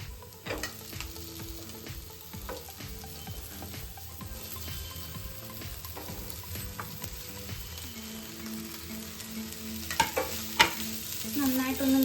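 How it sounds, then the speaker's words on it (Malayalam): Potato pieces and browned onions fry in a pan for a Kerala potato stir-fry, giving a steady close sizzle broken by scraping stir strokes, with a few louder clatters near the end. "ഇനി ഇതിലേക്ക് നമുക്ക് ഉരുളക്കിഴങ്ങ് ആഡ് ചെയ്ത് കൊടുക്കാം."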